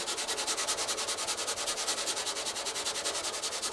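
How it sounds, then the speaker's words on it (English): A 1000 grit abrasive pad is rubbed by hand over peeling clear coat on a car bonnet, giving steady, rhythmic back-and-forth scraping strokes, close and continuous, with no talking. "I'm going to use the 1000 grit. So anyway, I'm going to carry on using this abrasive pad"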